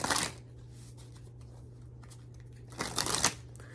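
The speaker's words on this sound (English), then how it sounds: "I keep shuffling, the devil card keeps coming out." Tarot cards are riffle-shuffled in two brisk, crisp bursts, close and fairly quiet, with a low steady hum filling the pause between them.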